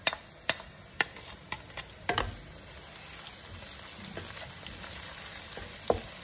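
Onion paste hitting hot oil with whole spices such as cardamom and cloves for a Bangladeshi shahi chicken pulao, giving a steady close sizzle broken by sharp clicks and utensil taps.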